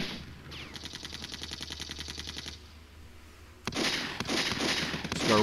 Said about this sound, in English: So our rifle division is firing.